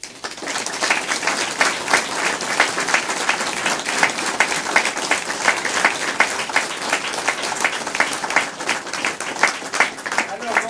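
Loud, brisk applause from an audience at the inauguration of a school site in Montereau, with rapid individual claps forming a dense, sustained roll for about ten seconds.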